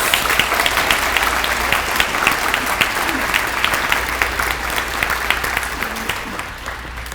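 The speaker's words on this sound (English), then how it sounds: "How about the biggest round of applause that you can come up with for your principal, Mrs. Ray Connolly?" A school crowd gives a huge, sustained round of applause for the principal, a loud, even roar of many clapping hands that continues throughout and tapers slightly at the end.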